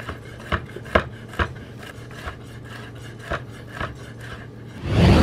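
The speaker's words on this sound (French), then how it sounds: "Et on va faire une petite brunoise." Kitchen knife dicing black truffle into fine brunoise on a board, a run of crisp, quick taps close by in an uneven rhythm, ending in a short rustle.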